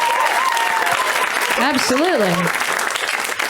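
An audience at a stand-up comedy show applauds loudly and steadily throughout, with a voice speaking briefly over the clapping.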